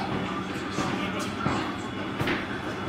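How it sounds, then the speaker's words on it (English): A train rumbling past on a snowy mountain pass in a winter blizzard, a steady, loud, close roar with faint clatter throughout. "just as I got into the shop, the train went by"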